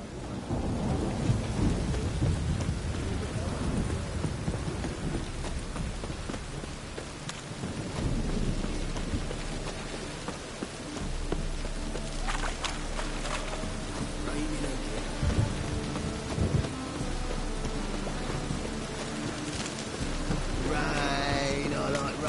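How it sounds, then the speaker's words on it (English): Rainstorm with thunder in The Witcher video game: steady rain patters throughout while several rolling thunder rumbles come and go, near and fairly loud, with no talk. "Rain, I like rain."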